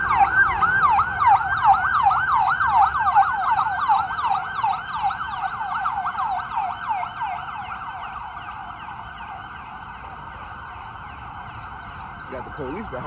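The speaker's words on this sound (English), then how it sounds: "It's gonna be some sirens." A wailing emergency vehicle siren sweeps up and down in rapid cycles through Washington, DC traffic, loud and close at first, then gradually fading as it moves away beneath road noise.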